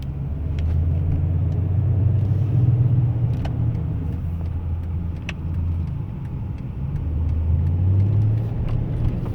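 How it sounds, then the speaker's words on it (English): A 2002 Toyota Tundra SR5 TRD 4WD pickup with 77,000 miles drives around the block, heard from inside as a steady low engine and road rumble with no talking. "we'll put it in drive and just go for a drive around the block with it"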